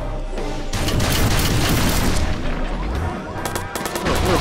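Gunfire in the video game Watch Dogs as cover fire is laid down: a loud, dense burst of repeated shots with booming impacts, near and continuous, with sharper cracks toward the end.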